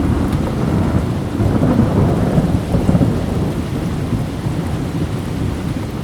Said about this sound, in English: It was the loudest thunderstorm that I can remember in this country.